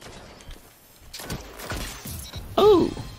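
Arbalest (AirBlast) weapon fired in a video game, a few sharp shattering blasts and thuds spaced across the moment, ending in a louder burst with a ringing whistle-like tone.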